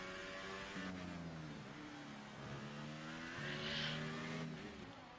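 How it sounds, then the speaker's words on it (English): McLaren race car in an F1 video game on the Russia circuit, taking the final corner to begin a lap, its engine revving steadily up through the gears with shifting tones, loud and continuous with no talk. "So the McLaren takes the final corner and he will begin his lap."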